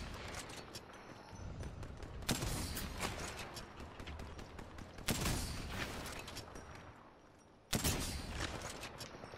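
Sniper gunfire in a chaotic multiplayer video game, with a few sharp, loud shots spaced seconds apart over a dense wash of battle noise and distant firing.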